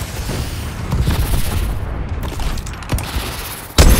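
Bombing run explosions from a friendly airstrike in Call of Duty: Advanced Warfare multiplayer, a continuous loud rumble of booms and blasts with sharper hits near the middle and a heavy blast at the end.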